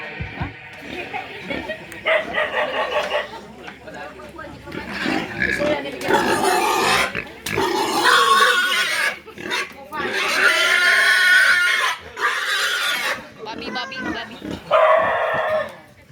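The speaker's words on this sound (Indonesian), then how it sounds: "babi anjing" Pigs and dogs at a traditional Nias ceremony in North Nias, with loud pig squeals and grunts mixed with dog barking in repeated bursts, while people talk in the background.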